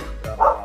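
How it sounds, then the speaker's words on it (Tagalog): A dog gives a single short, sharp bark close by, brief and loud against a quiet background. "yung aso kasi medyo maingay"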